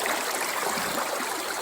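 Creek water streams and burbles around a rock at a small gold-prospecting dig, a close, steady rushing flow without a break.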